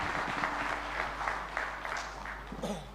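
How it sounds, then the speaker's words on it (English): A conference audience claps after a Tari Sekar Jagat dance at an international open and distance learning event, a brief, moderately quiet burst of scattered hand claps with no talking. "A round of applause for Tari Sekar Jagat."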